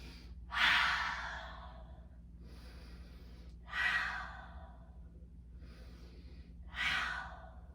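Children resting in yoga child's pose take three slow, audible breaths, each a soft airy exhale about three seconds apart, near and quiet over a faint steady hum.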